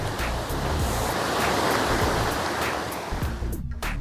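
Palmer Creek in the Cataloochee mountains rushes past nearby in a steady, dense roar of flowing water, with some wind buffeting the microphone and no voices.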